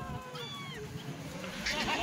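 A Kathiawadi dairy goat gives a short wavering bleat among livestock, with faint voices and background noise around it.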